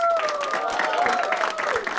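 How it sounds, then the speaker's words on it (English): A theatre audience claps for the participants at the close of a comedy show, a dense patter of applause mixed with crowd noise and a lingering tone, steady and fairly loud across the moment. "Give everyone who participated a round of applause, please"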